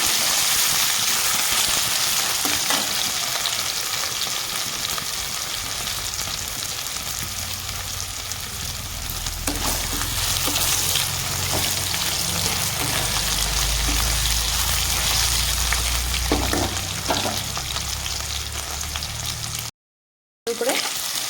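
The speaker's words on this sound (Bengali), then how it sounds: "আর দিয়ে দিব থেতো করে রাখা আদা আর কুচনো লঙ্কা তো সবগুলো আমি একসাথে আমি এগুলো ভেজে নেব" Crushed ginger and chopped green chillies fry in a pan, giving a continuous bright sizzle with faint crackles and a low rumble joining midway, steady and close, cut by a brief silence near the end.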